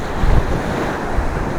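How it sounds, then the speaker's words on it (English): Strong ocean waves wash onto a public beach at Tulum, Mexico, a constant loud roar of surf mixed with wind buffeting the microphone, with no talking. "today for some reason the waves are strong"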